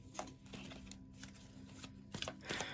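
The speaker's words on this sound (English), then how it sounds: "I just love shuffling these cards." Tarot cards being shuffled close by, a steady soft riffling with a few sharper snaps near the end, with a faint hum underneath.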